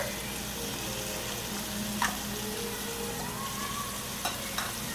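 Diced green pepper sautéing in a pan with Italian sausage, a dense continuous sizzle and crackle that holds steady throughout, punctuated by a couple of light utensil taps, close and without voices.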